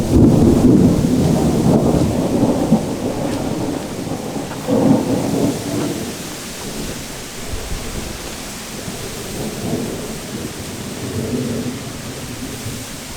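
A thunderstorm on a lake shore during a fishing session, with loud rolling thunder at the start fading into steady heavy rain hissing on surfaces.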